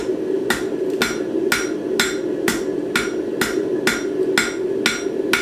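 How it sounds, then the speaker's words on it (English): A hammer strikes a square steel bar, knocking off its corners to make an octagonal profile: about eleven evenly spaced, ringing metallic blows at a steady rhythm, loud and close over a constant background drone. "I am actually hammering off the corners"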